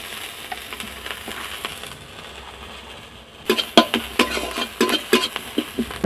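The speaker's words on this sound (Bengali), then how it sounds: "প্রথমে আমি কড়াতে পেঁয়াজ দিয়ে দিচ্ছি বন্ধুরা পেঁয়াজ তো দিয়ে দিয়েছি এখন তার সাথে আমি একটু তেল দিয়ে দিচ্ছি" Onion and oil sizzle in a kadai, a soft hiss at first, then after a brief lull a series of sharp spatula scrapes and clanks on the pan over the sizzle, close with no voices.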